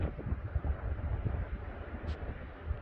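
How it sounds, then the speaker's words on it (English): Gusty spring wind blowing across an open rural homestead yard, a steady low rumbling buffeting close to the microphone that swells and eases throughout without a break. "Windy."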